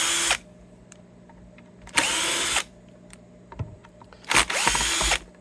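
A Bosch power drill unscrews the back plate of a Gibson Les Paul guitar in three short whirring bursts, each spinning up and down, with faint clicks and handling noise in the pauses between them.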